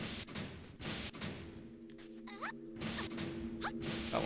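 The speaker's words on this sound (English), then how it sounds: "I hear what sounds like grenades being thrown, but I'm not hearing explosions" Grenades are lobbed in Jet Force Gemini, heard as a few soft thuds and quick whooshing tosses scattered over a steady game background, with no explosions following.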